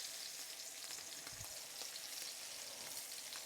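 Swedish meatballs brown in a hot pan with a soft, steady sizzle and occasional crackling spits, close by and quiet, with no talking.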